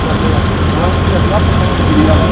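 A tractor in flood-hit villages of Gurdaspur rumbles with a steady low engine drone, loud and continuous, while people talk over it.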